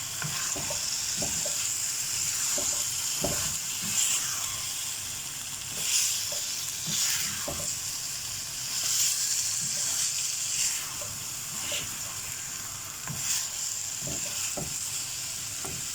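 Beetroot chicken frying in a pan as its water cooks off: a steady, close sizzle runs throughout, broken by repeated scraping stirs of a spoon.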